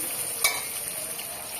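Ginger and garlic frying in a hot pan give a steady, bright sizzle with one sharp clink of a utensil near the start, close and moderately loud, no voices.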